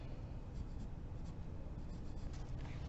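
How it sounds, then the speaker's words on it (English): Pencil and eraser rub across paper while drawing and clearing perspective lines of a one-point city scene, a continuous soft scratchy scrubbing heard close and steady, with no voices. "You're going to erase just that little bit and erase the horizon line."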